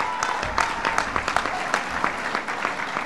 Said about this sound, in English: So give Barbara and Mike a big round of applause.